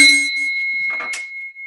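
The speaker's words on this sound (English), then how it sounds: "I'm going to go ahead and get things started and ring this bell here" A hand bell rung to open a meeting gives a single bright ring that decays quickly into a faint lingering tone, heard clearly and alone.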